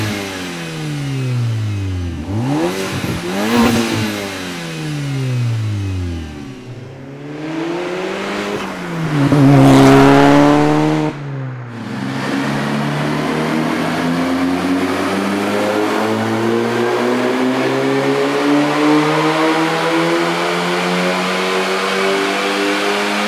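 A VW MK6 Golf R fitted with an ECS Tuning intake revs loudly and repeatedly, its engine note sweeping up and falling back through the gears, then settling into a sustained, strong drone as it drives on.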